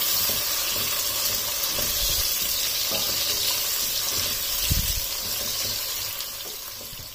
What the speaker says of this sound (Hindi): अब इसे सिर्फ 2 से 3 सेकंड ही इसमें सौते करना है